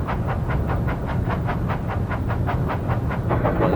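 Thomas the steam engine rolls along rails with a steady, rhythmic chuffing and clickety-clack, continuous and fairly loud throughout, with no voices.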